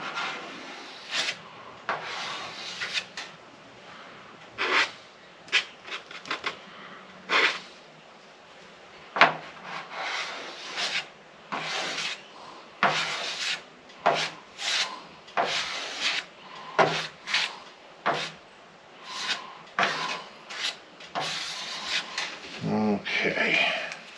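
Body filler being spread with a small spatula over rust repair on a 2002 Ford F350 truck, giving repeated short scraping and smearing strokes at close range with brief pauses between passes and no talk.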